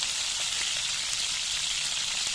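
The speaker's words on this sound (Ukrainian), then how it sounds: "будемо кидати цибульку сюди, піджарювати цибульку" Chopped onion frying in a pan outdoors during a fishing trip, giving a steady, dense sizzle that holds evenly throughout, fairly close and with no talking.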